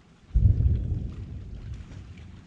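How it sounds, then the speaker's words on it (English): Thunder rolls in suddenly during a thunderstorm with heavy rain overnight, a loud deep rumble that swells, then slowly fades into the steady hiss of falling rain. "Just saw a flash of lightning near thunder"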